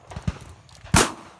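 Gunshot from a hunting shotgun in Argentina, one sharp loud blast near the end following a couple of duller thumps, recorded outdoors at close range.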